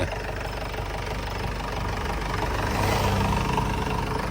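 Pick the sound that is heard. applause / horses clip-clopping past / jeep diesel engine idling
jeep diesel engine idling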